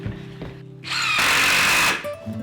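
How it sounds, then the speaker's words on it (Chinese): A power drill drives a screw into a wooden stool's cross brace in one loud, close, high-pitched whine lasting about a second, with quieter handling sounds before and after. "我们就从两侧一样锁螺丝进来。"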